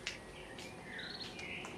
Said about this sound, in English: a lot of birds in here.